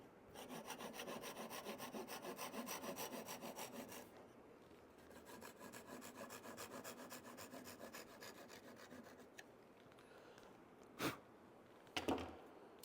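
A hand saw trims a wooden peg just above a board's surface, giving steady back-and-forth rasping strokes, close and moderately quiet, then a pause and a couple of brief sharp knocks at the end.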